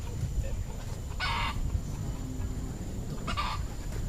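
Chickens and a rooster at an outdoor spot in Singapore, with two short bursts of clucking or crowing standing out over steady ambient background noise.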